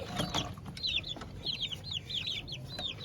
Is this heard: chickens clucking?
yes